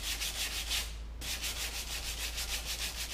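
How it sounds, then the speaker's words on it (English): A car's rear quarter panel dent is hand-sanded with 240 grit sandpaper in steady, rhythmic rasping strokes, close and continuous with one brief pause. "So I'm going to hit this with 240 grit now. Remember, always sand sideways if possible."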